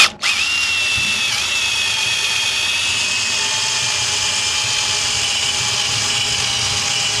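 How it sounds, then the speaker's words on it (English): A power drill whines steadily and loudly for several seconds after a brief start, boring bolt holes in a stock tank, its high-pitched motor tone holding nearly constant. "I don't know if this drill is going to make it through this job"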